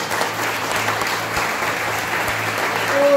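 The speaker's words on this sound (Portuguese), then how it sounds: "Dá uma salva de palmas para Jesus, Ele é lindo." A church congregation applauds during a worship service, producing sustained, even clapping at moderate volume with a low hum underneath and a brief tonal sound near the end.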